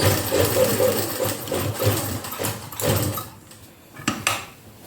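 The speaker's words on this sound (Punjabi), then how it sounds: "ਇਹਨੂੰ ਕਰ ਦੇਣਾ ਆਪਾਂ ਡਬਲ ਸਲਾਈ" A sewing machine runs in bursts of rapid, close whirring while stitching the side seam of a shirt, with small clicks. It stops partway through, and faint mechanical taps follow in the quiet.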